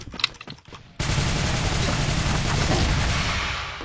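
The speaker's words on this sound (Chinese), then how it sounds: "射速的确好快啊！" Rapid automatic gunfire in the shooter game Nizhan rattles out as a loud, dense, continuous burst after a second of quieter game sounds, with no voices over it.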